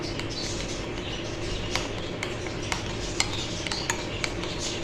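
A spoon stirs mayonnaise and tikka masala in a bowl for a chicken tikka sandwich filling. Soft scraping runs throughout, with occasional light clicks of metal against the bowl, close and unaccompanied by speech.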